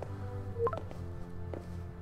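A short electronic text message alert from the video game Marvel's Spider-Man: a couple of brief bright tonal blips with a later faint chime, heard over a steady low game ambience and music bed.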